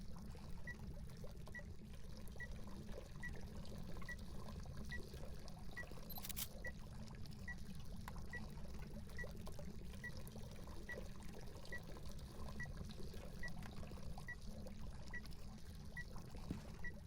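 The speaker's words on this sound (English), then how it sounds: "Ghost is definitely a fan of the water fountain." A water fountain runs in the ghost-hunting video game Phasmophobia, giving a constant low rushing trickle that holds steady throughout with faint regular ticks above it, with no voices.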